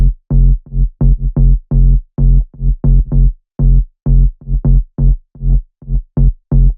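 A Serum synth bass patch run through Decapitator and Saturn saturation for bass house plays a loud, stuttering run of short, punchy notes in a choppy rhythm, with no other sounds.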